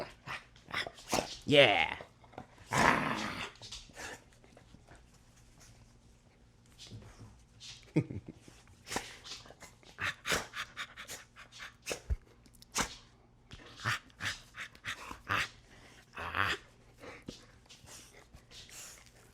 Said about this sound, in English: This is the best part about having big dogs is like the wrestling. They like to wrestle.